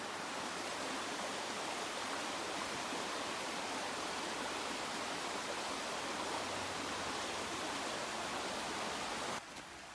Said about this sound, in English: We are back on trail and now we have a river crossing.